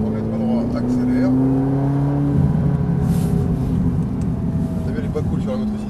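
A Ferrari F458 accelerates, its engine note rising steadily in a loud, close drone heard from inside the car, with someone talking over it.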